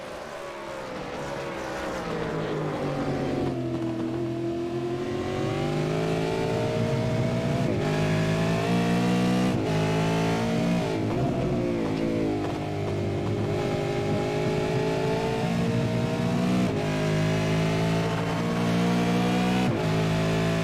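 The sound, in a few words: V8 Supercars race cars braking, from a racing video game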